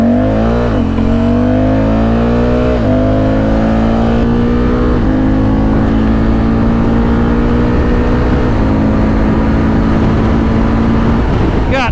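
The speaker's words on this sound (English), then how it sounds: "Honda Africa Twin 2024. God dang it. 0 to 200 kilometers an hour" A 2024 Honda Africa Twin DCT motorcycle engine revs up loudly and continuously on the Autobahn toward 200 km/h. The pitch climbs steadily and drops back briefly at each automatic gear shift, several times in a row, with wind roar throughout.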